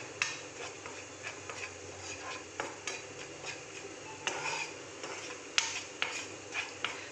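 A spoon stirring chicken with garam masala and chili powder in a frying pan, with repeated scrapes and clinks against the metal over a soft sizzle at an irregular rhythm.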